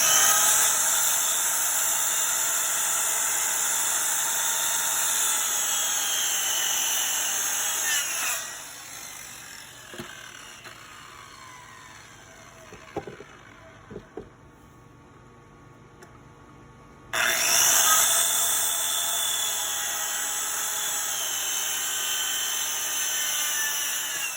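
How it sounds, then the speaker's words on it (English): Power saw set to full depth cutting a wooden post for an elevated floor: a loud, high whining cut, a quieter pause with a few knocks and clatters, then a second sustained cut. "I'll come back with my saw that's set to my full depth and cut that"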